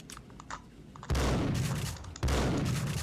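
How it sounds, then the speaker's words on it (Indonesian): Two loud gunshot bursts from the Max Payne video game on PlayStation 2, one at about a second and another near two seconds, each a sharp crack with a sustained noisy tail, over a faint quiet background. "Saya tembak nih."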